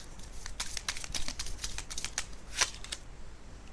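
A tarot deck is shuffled close up, giving quick bursts of riffling, flapping card noise followed by a short snap as a card is drawn, with no talk.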